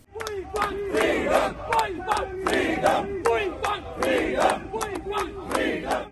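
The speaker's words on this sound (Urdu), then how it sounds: "اس موقع پر شرکاء نے کشمیر کی آزادی کے حق میں اور بھارتی ظلم و ستم کے خلاف شدید نعرے بازی کی۔" Kashmiri protesters outside the Indian consulate in Birmingham chanting slogans as a crowd, loud repeated rhythmic call-and-response phrases in a steady cycle.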